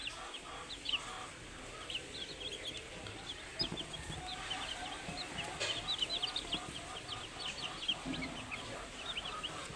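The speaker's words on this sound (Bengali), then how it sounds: "এইখানে টাইগার মুরগির বাচ্চা আছে কিছু আর তিন চারটার মতন ফার্মের বাচ্চা আছে" Many small day-old tiger chicken chicks and a few farm chicks cheep and peep in a steady, busy chorus close by, with occasional louder chirps rising above a low farmyard background.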